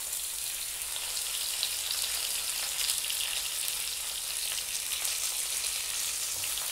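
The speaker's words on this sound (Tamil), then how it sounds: "எல்லாம் சேர்த்து நல்லா வதக்கி விடுங்க. வெங்காயம் நல்லா வதங்கட்டும்." Onions and adamant creeper (pirandai) sautéing in hot oil for a chutney, giving a steady, close, even sizzle with fine crackling throughout and no voices.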